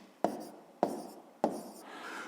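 Three sharp taps of a pen on paper as numbers are written out for a sixth-grade math exercise, each tap followed by a short scratching stroke, close and quiet with no talking.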